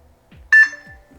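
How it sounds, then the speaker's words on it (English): A single short electronic beep rings out clearly from a Wuuk Wired Cam Pro V2 security camera after its sync button is held, close and loud, with faint handling clicks around it. "press and hold the sync button for 3 seconds until we hear a beep"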